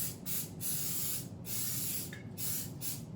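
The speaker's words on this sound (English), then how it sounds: "Give that a good spray." A cooking spray can hisses in three short bursts onto a loaf pan, separated by brief pauses, close up and fairly loud.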